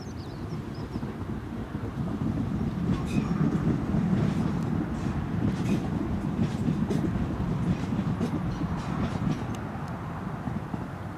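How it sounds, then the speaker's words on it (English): A TUI Boeing 737 airliner arriving at Newcastle Airport produces a steady, broad low rumble of jet engine noise heard from a distance, lasting throughout with faint talk at times. "So here's a TUI 737 just arriving."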